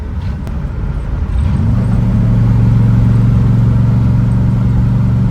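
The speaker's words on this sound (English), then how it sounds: "the echo that you get from the exhaust is awesome" A 1965 Ford Mustang Fastback drives along, its engine and exhaust giving a loud, deep, steady rumble that swells slightly as it pulls, heard close from inside the car without talk.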